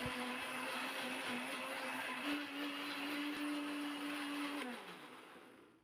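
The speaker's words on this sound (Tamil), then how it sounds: "மிக்ஸி ஜாரில் வச்சு அரைச்சி எடுத்துடலாம்." A mixer grinder blends rose petals with water in its jar, a loud steady whirring drone with a constant pitch that shifts slightly midway and then winds down as the motor is switched off.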